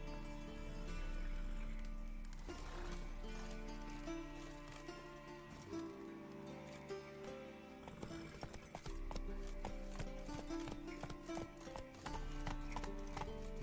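Roach, the horse in The Witcher 3 video game, gallops with steady rhythmic hoofbeats that run through most of the stretch, loud and close, with a brief neigh and other game sounds mixed in.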